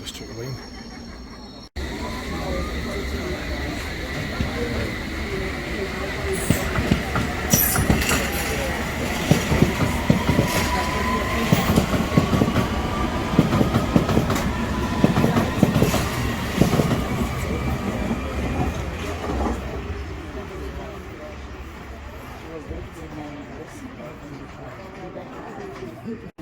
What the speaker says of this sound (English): It's a tube train,